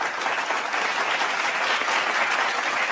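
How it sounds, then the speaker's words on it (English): Audience at a corporate awards livestream event giving a round of applause, a dense, even wash of many hands clapping continuously, fairly loud and close. "Please a round of applause"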